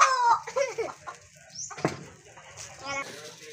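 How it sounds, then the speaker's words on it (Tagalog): A chicken clucks with short bursts near the start, followed by a voice and household sounds in a kitchen during breakfast cooking. "Mommy, there's a chicken."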